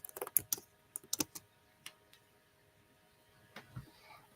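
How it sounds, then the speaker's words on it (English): Typing on a computer keyboard, a few quiet close key clicks in short bursts separated by pauses, faint against a near-silent room. "I'm going to type in Mother's Day."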